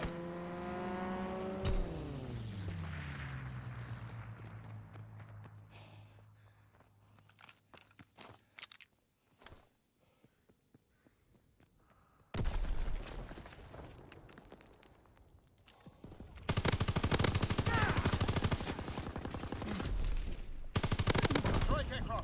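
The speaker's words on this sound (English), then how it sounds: "Fighter pilot inbound, strafing the target." Call of Duty fighter jet strafing run: a descending engine whine gives way to scattered gunfire cracks, then heavy roaring bursts of rapid fire and jet noise that sweep in loud and close and sustain to the end.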